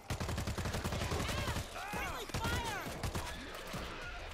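Bursts of rapid gunfire from the World War Z zombie shooter ring out, with repeated sharp shots early on, followed by rising and falling whistle-like tones and quieter shots as the firing thins out.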